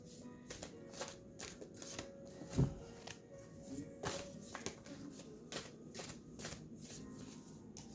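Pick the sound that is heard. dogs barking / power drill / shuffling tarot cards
shuffling tarot cards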